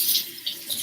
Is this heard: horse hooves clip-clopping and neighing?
no